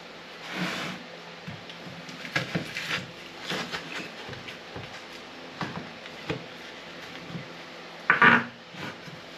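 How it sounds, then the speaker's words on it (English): Knife work on a frozen Picard pizza, cutting it into small pieces: scattered knocks and scraping clicks against a board or plate, irregular and fairly close, with a sharper clatter near the end. "I have to cut the pizza into little pieces in order to like make it fit into the air fryer"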